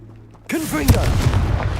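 Confringo explosive spell cast in Hogwarts Legacy: a sudden loud blast erupts after a quiet moment, then a sharp second impact and a rumbling, crackling explosive tail, with a voice briefly calling out amid the noise.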